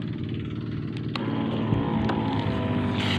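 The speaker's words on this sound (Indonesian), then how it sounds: "coba kita hidupkan aja mesin tangkinya ya" A motorised sprayer tank engine runs steadily as a Dimenol 15 WG fungicide mix foams in the tank, giving a loud, continuous close-up drone with no break for the whole stretch.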